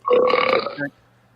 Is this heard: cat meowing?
no